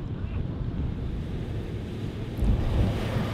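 Steady wind buffets the microphone over a low, continuous roar of surf on Magnolia Beach, Texas, at sunset, with a slightly louder gust near the end.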